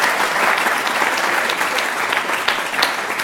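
A crowd claps steadily at an awards ceremony, dense and loud throughout with no voices above it.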